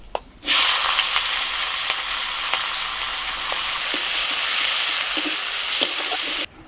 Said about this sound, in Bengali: ফোড়নটা ভাজা হলে দিয়ে দিচ্ছি পেঁয়াজ কুচি